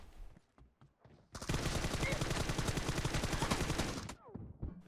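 Sustained automatic gunfire in PUBG Mobile: a loud, rapid burst of shots runs for nearly three seconds, with a few brief sounds before and after it.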